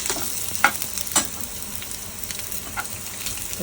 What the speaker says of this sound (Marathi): आता सगळं एकदा परत फ्राय करून घेते बारीक गॅसवर.